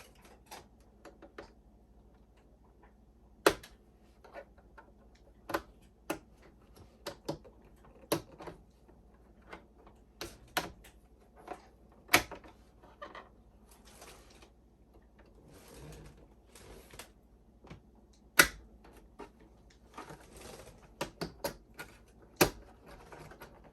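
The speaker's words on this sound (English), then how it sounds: "You just take your plastic pry tool, pry along this edge." A plastic pry tool works around the edge of an Xbox Series X case, giving sharp isolated clicks and snaps as the tabs release, spaced irregularly over quiet handling noise, close and without talk.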